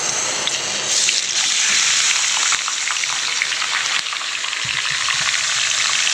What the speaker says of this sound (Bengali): আর এদিকে আমি সব মাংসগুলো এই যে কড়ার তেল দিয়েছি আর একটু দিয়ে এই মাংসগুলো কড়াতে দিয়ে দেবো